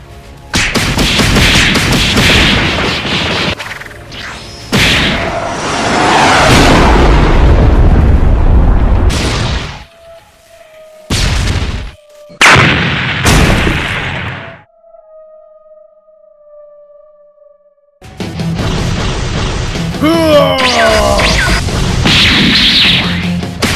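Animated Deoxys vs Boros battle with Meteoric Burst energy attacks: loud rumbling blasts and booming impacts in bursts, broken by short silences and a thin sustained whine, then a final dense roaring surge.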